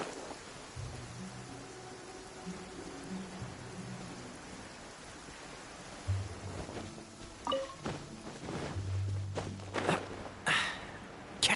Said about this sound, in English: Cryo is always far more effective in the rain.